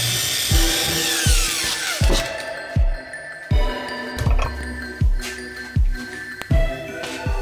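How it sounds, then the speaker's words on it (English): A power drill whirs in repeated short bursts, roughly one every half second to second, with rhythmic thumps as the bit bites into material. "We'll drill it out"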